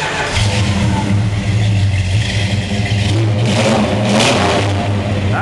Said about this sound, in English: That's the rumble we love right there. Mopar 340.